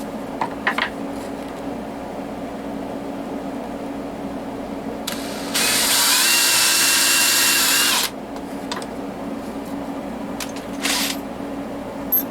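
A power drill countersinks a hole in one loud, close burst of about two and a half seconds, with faint short tool noises before and after in an otherwise quiet room.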